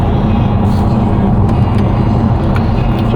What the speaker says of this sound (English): you can hear that exhaust horn straight away, and it is nice. It does sound good.